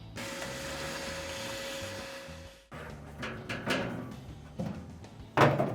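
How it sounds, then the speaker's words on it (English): A vacuum cleaner sucks ash dust out of a pellet grill, a steady whining drone that stops after about three seconds. Clunks and knocks of handling the grill parts follow. "And we're ready to vacuum that dust out"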